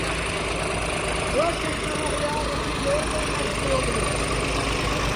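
Diesel engine of a John Deere 5210 GearPro or Swaraj 744 FE tractor idling nearby, a steady low rumble that continues throughout. A few faint rising and falling tones sit on top of it.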